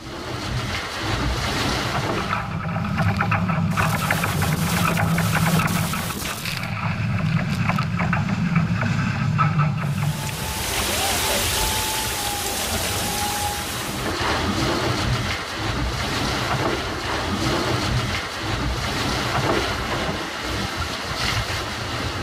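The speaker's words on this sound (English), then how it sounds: "one boat, the wind, the sea, in their purest form" A racing sailboat rushing through the open sea in the Barcelona World Race, with strong wind noise buffeting the microphone and waves hissing and splashing around the hull.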